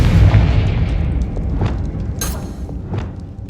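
Confringo blasting spell exploding in Hogwarts Legacy, a loud booming blast with a deep rumbling decay, followed by scattered sharper pops and crackles as it fades.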